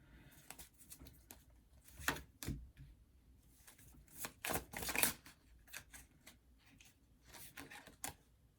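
Tarot cards being shuffled in a quiet room, a string of soft, irregular riffling and flicking bursts that come and go at close range with no talking.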